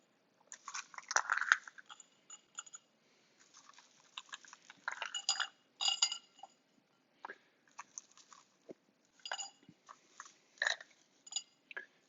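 Quiet, close crunching and chewing of a peach dessert topped with oat crumble, irregular bites coming in short bursts between pauses, with no talk.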